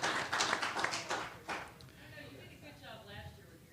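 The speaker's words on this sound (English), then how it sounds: "round of applause for those of us who made it out" Clapping from a seminar audience at a maritime safety awards event, a short burst of scattered applause in a large room that fades after about two seconds into quieter room noise.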